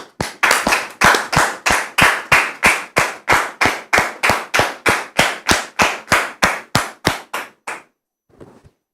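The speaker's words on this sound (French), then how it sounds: "Axel, que nous recevons sous vos applaudissements." Steady audience clapping welcoming a guest onto a French-language talk show stage, about two dozen sharp, evenly spaced claps over seven seconds, close and loud, then a brief faint rustle.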